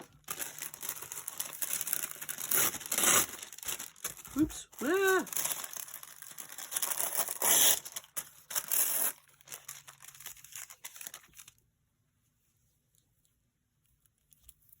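Paper being frayed and torn by hand to make textured edges for craft tags, with crinkling and rustling bursts in the foreground and a brief short exclamation partway through, then quiet at the end.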